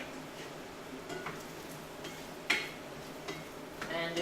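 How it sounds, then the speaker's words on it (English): Potatoes added to translucent onions fry gently in a pan on a stovetop, a low steady sizzle with scattered scrapes and clinks of stirring, one sharper utensil knock near the middle. "that, I think, is just going to slowly fry on the stove top until it's cooked"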